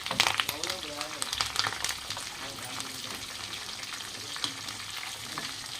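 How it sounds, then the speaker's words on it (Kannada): Kebabs frying in hot oil give a dense, crackling sizzle with sharp pops, busiest at the start and then settling to a steadier hiss, while a voice briefly speaks over it early on. "ಇಲ್ಲಿ ನಮ್ದು ಕಬಾಬ ರೆಡಿ ಆಗತ್ತು ಒಂದು ಸ್ವಲ್ಪ ಕರ್ದು ಹಾಕಿ ಚಟ್ ಚಟ್ ಅಂತಾರೆ"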